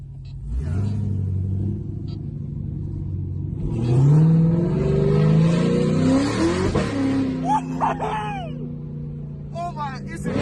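A supercharged LT4 V8 in a Chevrolet Camaro ZL1 revs up and falls back, a close, deep rumble that swells mid-stretch, with people talking around it.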